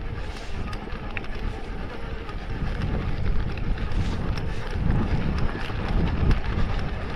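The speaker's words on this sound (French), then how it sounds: "On reprend un peu de vent là." Strong wind buffets the microphone in a continuous rushing roar during an electric mountain bike climb near Sunbilla, with faint movement noises underneath and no clear voices.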